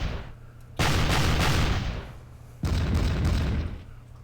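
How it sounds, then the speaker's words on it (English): Artillery fire in an English Civil War battle game, two heavy booming volleys about two seconds apart, each a loud close blast that rumbles on and slowly fades. "Wow, every single shot missed just then."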